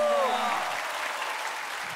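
Studio audience applause for a broadcast music show, a burst of clapping that starts loud at once and thins slowly as it fades, with a voice heard at the start.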